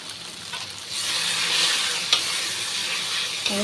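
Dhokar dalna curry sizzles and fries in oil in a pan, a continuous bright hiss that swells after the first second, with a couple of faint stirring clinks and no talking.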